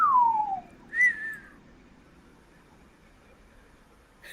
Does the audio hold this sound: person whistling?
yes